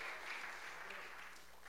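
Worshippers at a church service clap together, a steady wash of applause heard fairly quietly with voices mixed in.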